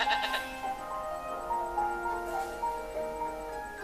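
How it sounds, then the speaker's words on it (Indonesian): A ram bleats in a wavering, quavering cry, repeated calls running close and moderately loud over a few seconds, with no talk. "Ada domba jantan yang tanduknya tersangkut di belukar."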